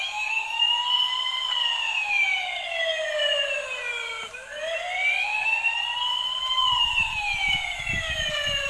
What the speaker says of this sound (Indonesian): Wow, lihat lampu dan bunyi sirine.